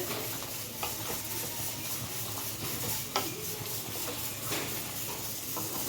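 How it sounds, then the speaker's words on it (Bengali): Prawns being stirred in a pan over a steady low hiss of frying, with a few soft scrapes and knocks of the spoon rising above the continuous background. "চিংড়ি মাছটা দিয়ে দেব। ভালো করে নাড়িয়ে মিশিয়ে নিতে হবে।"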